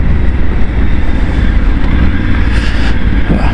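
A Triumph Tiger 900 GT adventure motorcycle's engine runs close and loud with a steady, throaty roar, holding a constant drone with slight rises toward the end and no speech over it.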